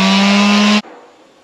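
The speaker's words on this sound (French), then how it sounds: "Mais avant on va virer tous ces petits logos pas beaux avec la ponceuse" A loud, close power sander whines steadily for under a second, then cuts off abruptly, leaving a faint fading hum; sanding logos off a surface.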